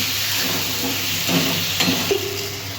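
Potatoes sautéing in a spiced masala with Kashmiri chilli for a red singhi fish curry, giving a steady close sizzle and frying hiss with a few soft stirring scrapes.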